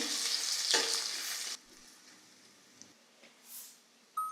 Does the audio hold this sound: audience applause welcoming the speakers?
no